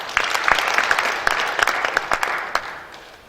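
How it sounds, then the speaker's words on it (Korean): A church congregation at an Easter union thanksgiving service claps for a few seconds, a moderately dense round of applause with a handful of sharp, close hand claps standing out before it fades. "박수 한번 주시면 감사하겠습니다"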